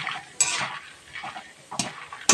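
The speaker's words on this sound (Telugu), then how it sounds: "జస్ట్ ఆయిల్ వేసుకొని పుట్నాలు పల్లీలు అయితే వేసుకొని దీంట్లో అయితే వేయించుకుంటున్నా" Flattened rice frying in oil with roasted gram and peanuts, stirred in a pan; a few sharp scrapes and clinks of a spatula against metal over a faint sizzle, close, with no talking.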